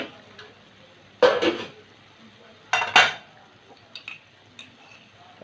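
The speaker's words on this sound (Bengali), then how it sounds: "দু মিনিট পরে ঢাকনা তুলে নিচ্ছি" A metal lid is lifted off a pot of pumpkin-vine greens with hilsa fish head, giving a couple of sharp clanks and scrapes about a second apart, followed by a few light clinks in a quiet kitchen.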